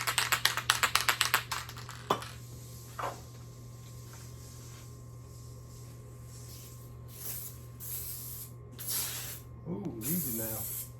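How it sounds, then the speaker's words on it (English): An aerosol spray can fires a quick series of short hissing bursts at a cabinet in a 1964 Airstream Globetrotter trailer, then longer hisses follow after a pause, with a steady background hum and some faint talk near the end. "I should actually spray it on a test surface or something different."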